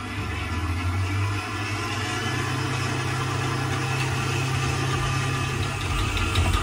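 Kitchen machine kneading Paraguayan cheese bread dough, a constant mid-pitched motor hum with a low droning vibration running evenly throughout, no voices.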